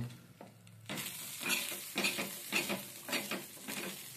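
Bangda (Indian mackerel) frying in hot oil, a steady close sizzle with bursts of spattering and stirring clatter after a quiet start, no voices.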